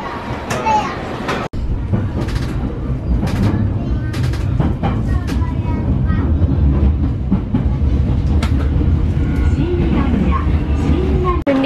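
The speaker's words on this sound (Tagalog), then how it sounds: "Nandito na kami sa train, papuntang airport." Inside a train heading to the airport during a Hong Kong stopover, a loud, steady rail rumble runs throughout with occasional clacks and rattles, while children and adults chatter nearby.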